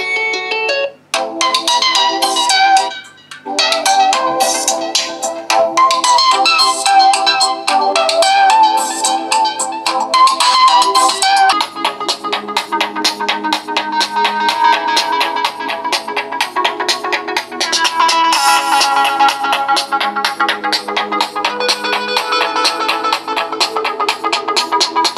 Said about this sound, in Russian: послушаем сейчас рингтон.